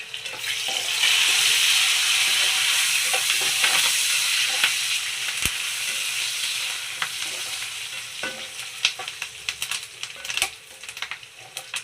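Curry leaves crackle and fry in hot oil with browned onions for a potato dish, a loud close sizzle with scraping stirring that fades slightly and turns into scattered pops.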